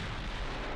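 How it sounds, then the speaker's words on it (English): Naval artillery fires long-range at a cruiser in the naval warfare game Ultimate Admiral Dreadnoughts, a brief, quiet, low booming rumble with no voices. "As my long-range fire continues pounding that cruiser"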